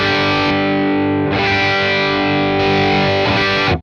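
Electric guitar played through an HOD Klon KTR overdrive pedal, sustained distorted chords ringing loud and alone, re-struck a few times with a clear, bright top end before cutting off.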